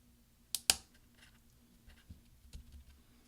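Replacement F3 keycap on a mid-2010 13-inch MacBook Pro being pressed down until it snaps onto the keyboard: two sharp close clicks in quick succession, then a few fainter small taps in a quiet room.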